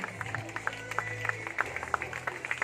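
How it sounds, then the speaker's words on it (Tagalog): Sparse, faint clapping from a small audience honoring a newly installed club president, irregular claps over a low hum. "Milyong-milyong palakpak para sa ating President, Mentor Joseph Lim!"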